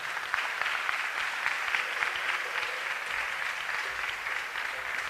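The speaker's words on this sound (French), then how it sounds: "Acclamez très fort pour ces gens-là" A church congregation in Abidjan applauds loudly and steadily, dense clapping from many hands filling the room without a break.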